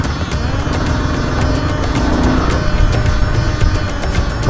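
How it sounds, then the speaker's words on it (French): A motorcycle engine runs loud and steady close by during a bike test in the Himalayas, a constant rumbling drone with a faint rhythmic ticking over it. "moteur a l'air de marcher."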